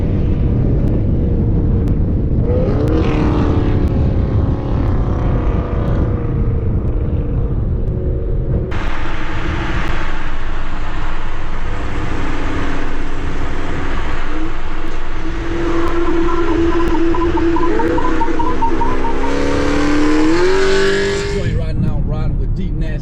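A car fitted with a Corsa Extreme exhaust idles with a deep rumble, then revs hard and pulls away, its loud engine note climbing and dropping through shifts as voices talk over it.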